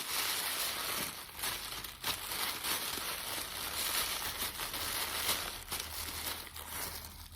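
Crinkling and crumpling of wrapping as packaged souvenirs from Lisbon are unwrapped, a continuous close rustle with occasional sharper tearing crackles.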